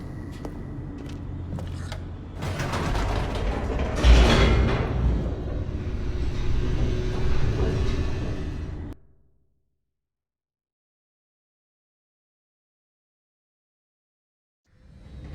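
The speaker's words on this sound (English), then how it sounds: "The elevator raced downward," Stanley Parable Ultra Deluxe game elevator racing downward: a loud, dense rumbling rush with rattling texture for about nine seconds, then cut off abruptly to silence before a faint return at the end.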